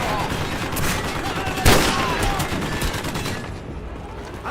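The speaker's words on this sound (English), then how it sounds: "Suppressing fire!" Dense bursts of rifle and machine-gun fire crackle through a Call of Duty: Modern Warfare campaign battle, with one sharp loud report in the middle and voices calling out under the din.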